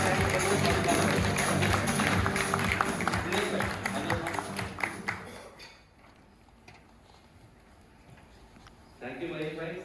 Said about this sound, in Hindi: कम ऑन गाइस, जोरदार तालियां